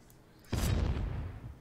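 Roar Explosion sound breathing skill attack in the video game Onikami: a sudden heavy booming blast that bursts in abruptly and decays over about a second, loud and alone.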